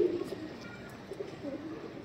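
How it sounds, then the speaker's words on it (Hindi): Rajasthani pigeon cooing softly in a pigeon loft in Mumbai, low steady murmuring coos running under faint background noise. "राजस्थानी कबूतर है"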